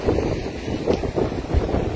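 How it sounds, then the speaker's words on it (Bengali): Steady low engine rumble of a trawler passing outdoors near a river mouth, mixed with gusty wind buffeting the microphone. "ওই যে ট্রলার, দেখ ট্রলার যাচ্ছে"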